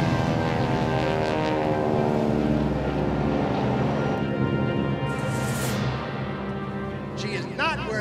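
A propeller airplane's engine drones steadily during aerobatic flight at an airshow, its tone shifting as the plane maneuvers, while a voice talks over it near the end.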